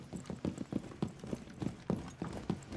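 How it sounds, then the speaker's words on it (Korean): Footsteps echo underground in Rainbow Six Siege, a rapid run of heavy, thudding steps in a steady rhythm that sounds close and booming, with no talk over them. "아, 지하라서 발소리 막 귀에 울린다."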